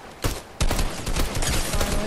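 Gunfire from a gun in the video game Fortnite: loud, close bursts of rapid shots in quick clusters, with sharp repeated cracks and no voices over them.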